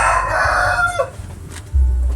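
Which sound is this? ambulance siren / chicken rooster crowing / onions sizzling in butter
chicken rooster crowing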